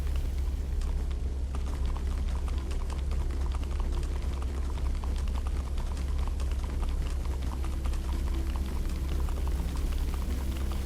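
Water running through a house's plumbing in the Minecraft Story Mode video game, a steady broadband rush with faint dripping and pattering layered over it, continuous and evenly loud with no voices.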